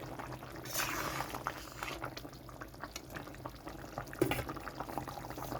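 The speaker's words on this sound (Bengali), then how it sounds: "তো এখানে আলু কচু সব সিদ্ধ হয়ে গেছে।" Fish curry with potatoes and taro bubbling in a pot, a steady soft boil with gurgles and small splashes, close and fairly quiet, with no talking.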